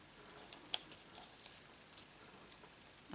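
Non-stick scissors cut through card with a few faint, sharp snips spaced apart in a quiet room.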